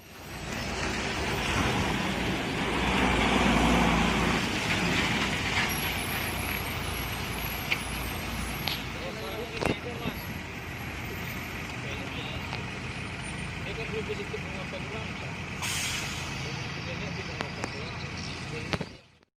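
A bus with Ciptakarya Medan coachwork passes on the road at dusk, its heavy engine rumble building and then fading, with an air-brake hiss and other traffic as someone talks over it.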